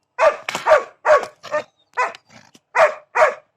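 A large dog barks loudly and close by, giving about nine sharp, evenly spaced barks mixed with a few shorter yelps in quick succession, with no talking.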